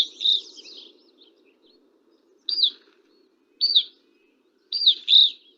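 Clear, high, pure-toned whistled calls of an evening grosbeak (Sierra Nevada form), a single note followed by three more spaced a second or so apart, over quiet low background noise.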